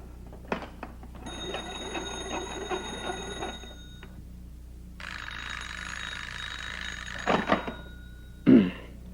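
An old telephone bell rings in two long bursts separated by a short pause, loud and close, and a couple of clunks from the handset follow.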